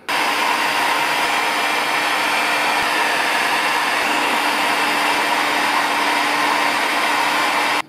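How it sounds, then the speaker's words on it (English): Loud, constant roar of a heat gun blowing hot air to bend tubing for a custom PC water cooling loop, a dense steady rush with a faint hum that runs unbroken from start to finish. "I'm gonna mess with the temperature on this heat gun"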